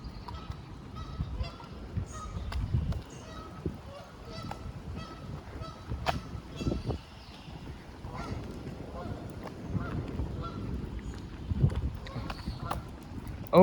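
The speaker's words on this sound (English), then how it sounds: "I can hear some ducks out there." Waterfowl honk repeatedly in the distance beside Humber Boulevard on a walk from Dundas to Old Mill, scattered calls rising over a low outdoor hum and footsteps.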